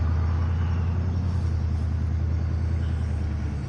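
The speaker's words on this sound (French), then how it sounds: "Le véhicule se déplace." A patrol vehicle drives in Call of Duty Modern Warfare, a steady heavy low rumble of a moving engine sustained for several seconds, with no voices over it.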